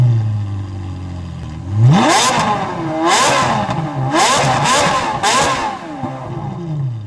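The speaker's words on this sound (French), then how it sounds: "je vais vous la démarrer pour vous écouter le son du 4 cylindres en V" A Smart Roadster Brabus Coupé engine starts with a whirring crank, then revs up repeatedly in several loud rising and falling bursts before settling back toward idle, heard up close with no talk.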